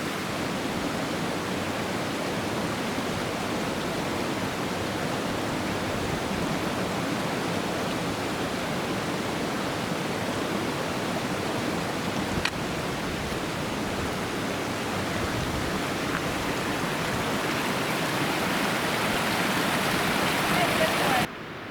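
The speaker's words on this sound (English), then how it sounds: "A waterfall up there, it looks like." Steady, rushing roar of a waterfall at the outlet of the 60 Lake Basin in the Rae Lakes area, a continuous broadband hiss that stays constant throughout with no breaks.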